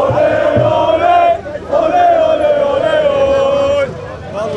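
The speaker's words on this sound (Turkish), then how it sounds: "Kocaeli Spor taraftarı müthiş bir tezahüratla kapıdan giriş yapmak üzere." Kocaelispor football supporters chant loudly in unison at a stadium entrance before an away match against Eyüpspor, a sustained massed roar of voices rising and falling in sung phrases, close and dense.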